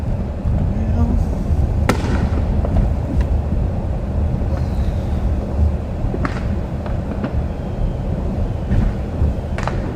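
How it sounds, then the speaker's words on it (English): Fireworks going off in the distance during a night patrol, scattered sharp pops and cracks over a rumbling background of wind and vehicle noise, with voices talking. "Mark, did you say there's more fireworks east of here"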